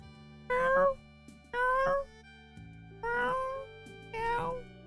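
A cat meows four times, clear and close, each drawn-out call separated by roughly a second of quiet against a faint steady hum.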